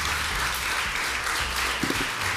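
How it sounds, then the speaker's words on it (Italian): A studio audience on a morning television cooking show applauds steadily, a dense continuous wash of clapping with no pauses. "non sento il vostro applauso su questo piatto"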